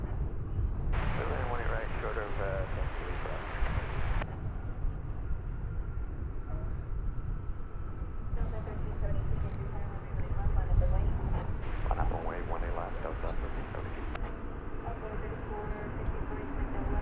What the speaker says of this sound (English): next flight from Grand Junction, Flight 3454, is landing on runway 18 left